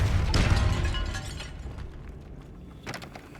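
A Depulso spell in Hogwarts Legacy, cast inside an eerie tomb, lands as a heavy burst with a crunching, shattering impact that slowly fades, followed by a fainter crack near the end.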